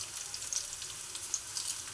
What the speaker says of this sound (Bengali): পেঁয়াজটাই দেখুন হালকা একটু ভাজা হয়েছে।